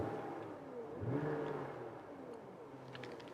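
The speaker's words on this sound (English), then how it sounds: "The idle just went super rough. It's under 500 RPMs." A BMW engine idling roughly at under 500 RPM, heard faintly from inside the car as a low uneven hum with a brief surge and slight whirring, quiet and without talk.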